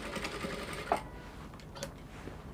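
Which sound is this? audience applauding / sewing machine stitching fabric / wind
sewing machine stitching fabric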